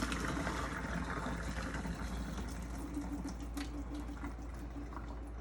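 Cooked noodles and their water poured from a pan into a small kitchen strainer, a steady splashing pour of liquid lasting several seconds with no voices.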